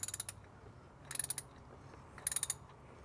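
A wrench ratchets in three short bursts of rapid clicks while tightening the oil filter on a 2024 Toyota Tacoma, quiet pauses between bursts.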